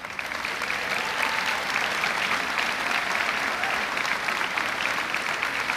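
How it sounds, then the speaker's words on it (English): Steady applause for chorus and band members at a high school graduation ceremony, a dense even wash of clapping from a large audience, moderately distant and uninterrupted. "Will all of our chorus and band members please stand to receive one more round of applause?"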